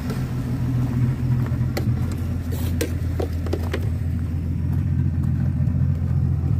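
An old manual Capri car engine runs steadily at close range, a continuous low rumble with a faint mechanical hum and no change in pace.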